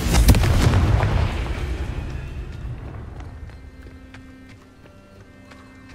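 A Confringo blasting spell exploding in the video game Hogwarts Legacy, a loud booming blast at the start that rumbles and fades over several seconds into quiet ambient tones, with a sharp pop at the very end.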